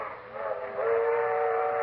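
Train sound effect in an old-time radio comedy, rolling carriage rumble under a sustained, wailing steam-style whistle that grows louder, heard alone without talk.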